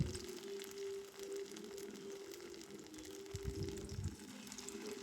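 Crunchy tiffin snacks shallow-fry in a small amount of oil, giving a soft, steady bubbling sizzle with a few louder crackles. The sound is close but low in level, with no voices over it.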